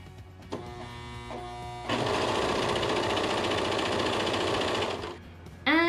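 A serger sewing machine stitches a skirt seam, a steady rapid mechanical whir running for about three seconds after some lighter start-up clicks, close and loud, with no talk.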